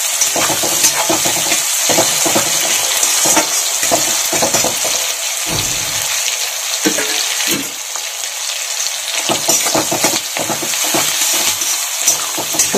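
Curry leaves, cumin seeds and chopped onion are stir-fried in hot oil in a pan, giving a loud, close, continuous sizzle broken by scraping stirring strokes.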